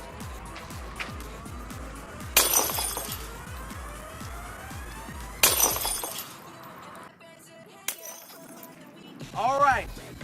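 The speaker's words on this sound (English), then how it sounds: "Glass vase. Will it break?" Glass vase dropped and shattering in a will-it-break drop test, with two sharp crashes and tinkling shards over a steady background hum, then scattered clinks and a brief rising electronic tone.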